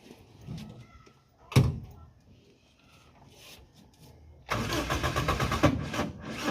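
A car engine cranks and starts with a loud burst, then runs roughly alongside a nearby thunk; the vehicle has an alternator that is not charging.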